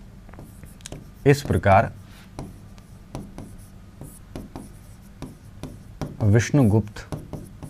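Chalk or pen writing by hand during a Hindi history lesson on the Gupta period, short scratchy strokes recurring through the clip beneath a teacher's speech.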